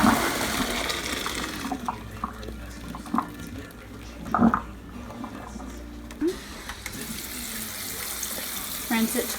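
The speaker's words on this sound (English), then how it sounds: "I'm going to drain this and then rinse it off" Hot water poured out of a cooking pot to drain it, then tap water runs in to rinse and cool it, a steady splashing rush with brief clinks and a short pause midway.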